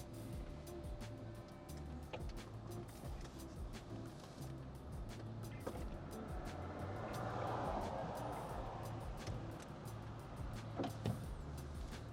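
A Mercedes SLK retractable hardtop roof opens at the pull of its switch, a low steady electric motor whir with mechanical clunks and clicks as the panels fold away, heard close with no talking.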